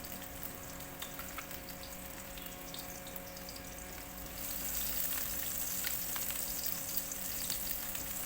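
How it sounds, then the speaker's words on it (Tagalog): Garlic sautés in oil in a pan while pancit bihon is being made, a steady close sizzling hiss that grows louder and brighter partway through, alone without talk. "So, maglalagay tayo ng oil. Mag-isa tayo ulit ng bawang."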